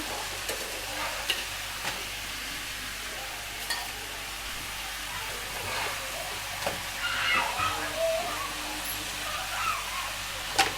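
Food fries in a pan while being stirred, a soft sizzle running throughout with scattered scraping clicks of the spoon against the pan, moderately close, with faint household background noise.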